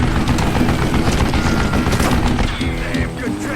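An old man fires a mounted gun in Call of Juarez: Gunslinger, rapid continuous automatic fire rattling densely and loudly without pause, with heavy low-end rumble.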